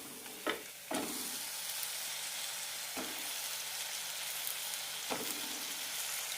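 Vegetable pieces for potato kurma drop into hot, well-roasted masala in a pan, giving a steady sizzle with a few distinct thuds and stirring scrapes spread across it.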